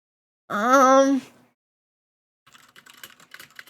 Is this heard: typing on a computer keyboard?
yes